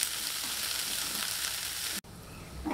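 Paneer and capsicum stir-frying in a pan over a medium flame give a steady, close sizzle. Partway through it cuts off sharply, then a quieter hiss picks up again.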